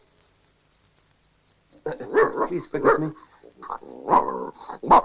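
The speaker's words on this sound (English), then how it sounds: "It's that silly dog." A dog barks and growls in short rough bursts, loud and close after a quiet opening, with yips in between and a voice speaking over part of it.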